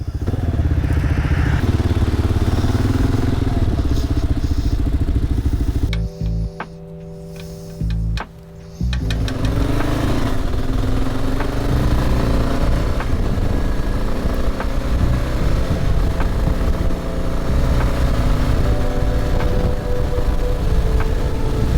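Kawasaki KLR 650 motorcycle being ridden, its engine a loud, close, steady drone with wind rumble that briefly drops out partway through before resuming.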